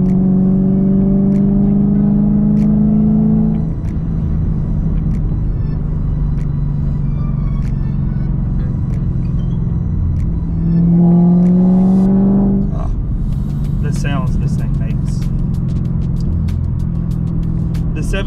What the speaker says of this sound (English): It's a really high strung engine. It likes to rev